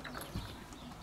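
A stallion's hooves give one soft clop on a farm at Mediesu Aurit, Satu Mare, Romania. The single short knock is faint and sits over a quiet, steady background.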